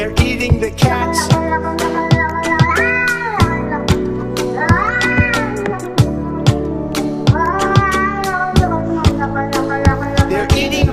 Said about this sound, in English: They're eating the cats, Meow, meow, meow, meow.